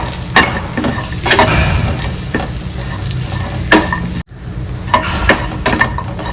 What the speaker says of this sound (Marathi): खोबरं टाकणार आहे मसाला तयार करून घ्यायचा आहे थोडं तेल टाकायचं आणि चांगलं भरपूर भाजून घ्यायचं